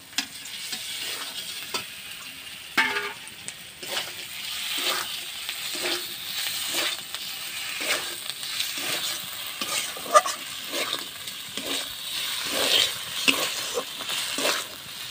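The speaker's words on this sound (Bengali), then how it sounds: "ডিমগুলো দিয়ে ভালোভাবে কষিয়ে নিয়েছি।" Boiled desi hen eggs fry in a pan for village-style egg korma, a moderate sizzle running throughout while a spoon stirs and scrapes them in regular strokes, with an occasional light clink.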